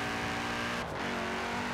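Steady engine drone of a car driving in Forza Horizon 4, a continuous mid-level hum with harmonic tones and a brief dip partway through, heard alone without talk.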